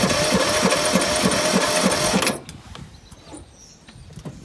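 An old engine cranking in cold weather with a rapid rhythmic churning for about two seconds, then it stops abruptly, leaving quieter mechanical rattles and clicks.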